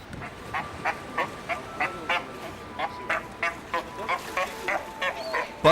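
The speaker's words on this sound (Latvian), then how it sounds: "Pat jūras lauvas ostā bija pieklājīgas un neuzmācās ar savu klātbūtni tur, kur tām ir liekts atrasties." Sea lions in Cape Town harbour give about a dozen honking barks in a steady, evenly spaced series, moderately close, over a low background hum with no talk.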